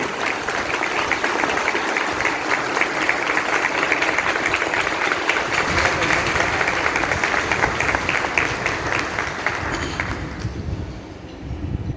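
Sustained applause from an audience at a stage event, dense and loud clapping continuing for about ten seconds before thinning out at the end, with no speech over it.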